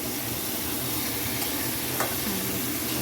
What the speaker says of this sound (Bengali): এভাবে কষাতে থাকবো চিকেনটা।